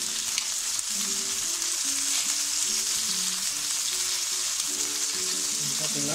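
Ginger, garlic, turmeric and masala sizzle and roast in a hot pan for a mango chicken curry, a loud continuous frying hiss with soft stirring scrapes and no talk.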